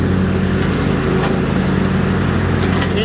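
A 2020 Cub Cadet riding lawn mower with a 17 hp engine and 46-inch deck runs at a steady, loud, close-up drone with no pauses and no talking.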